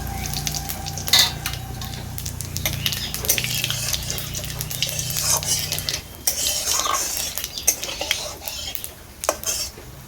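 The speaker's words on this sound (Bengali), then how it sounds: "এবারে তো আমি গোটা জিরে আর থেতো করা গোটা গরম মশলাটা দিয়ে দিচ্ছি" Whole cumin and crushed whole garam masala hit hot mustard oil in a karahi, a light crackling fry mixed with metal spoon clinks and scraping against the pan.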